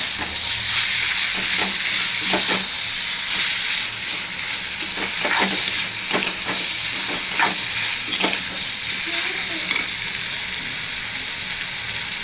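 Onions and tomatoes sautéing with salt in a pan for chicken kulambu, a steady loud sizzle with occasional scrapes and stirs running throughout.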